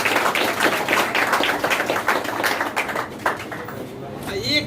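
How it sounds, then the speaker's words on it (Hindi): An audience claps in a fairly quick, rhythmic patter of sharp hand slaps that runs for several seconds and then fades, with a voice talking over it. "ताली होनी चाहिए, जमकर ताली जमकर।"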